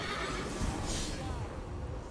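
A horse neighs in a video game, a brief whinny heard faintly under a speaking voice.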